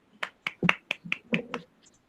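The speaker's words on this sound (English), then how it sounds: "Yes, everyone clap for them." Eight sharp claps from students ring out in a quick, slightly uneven rhythm, close and fairly light, with no talking over them.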